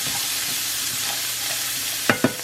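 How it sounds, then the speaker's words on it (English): Vegetables sauteing in a pan, with a steady loud sizzle running throughout and a couple of sharp scrapes and knocks from a stirring utensil near the end. "I'm gonna just mix it up in there. Let that saute."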